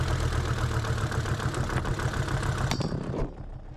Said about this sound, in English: Finally, she started, but my excitement was short-lived as the vibrations from the engine caused my makeshift bonnet support to fall over